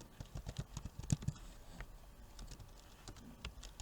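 Quiet, close keystrokes tap out on a computer keyboard in an irregular patter of individual clicks, faint and continuous with no speech.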